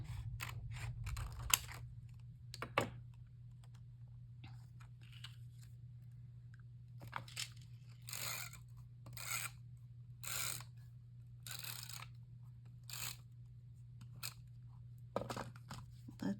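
Scissors rough-cutting around a square piece of paper or card for a craft shaker box: a series of short, crisp snips in irregular bursts, fairly quiet over a steady low hum, with no talking.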